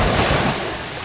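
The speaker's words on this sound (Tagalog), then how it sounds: "Alon." Surf at high tide on a beach in Zambales, Philippines, a steady broad wash of waves, louder at first and then easing slightly, with some wind buffeting the microphone.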